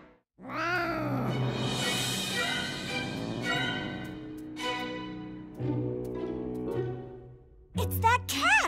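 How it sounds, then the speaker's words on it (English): A cartoon cat meows and caterwauls in a long, wavering, drawn-out yowl that rises and falls over several seconds, followed by shorter cries and a sharp final screech, with brief spoken lines in between. "It's that cat!"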